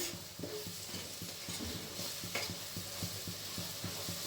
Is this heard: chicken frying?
yes